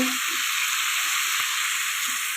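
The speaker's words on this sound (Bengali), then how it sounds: "তো এবারে আমার সবজিটা বেশ ভাজা হয়ে গেছে" Vegetables frying in a pan, cooked without onion or garlic: a steady, close sizzle and crackle runs evenly throughout, with faint utensil taps and no talking.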